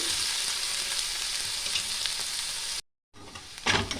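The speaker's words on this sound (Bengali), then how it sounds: "রসুন আর পেঁয়াজ একসঙ্গে আমি ভেজে নিচ্ছি একটু হালকা ব্রাউন অবধি" Garlic and onion fry together in oil toward light brown, a steady close hiss of sizzling that cuts out briefly and then returns with a sharper burst of crackle.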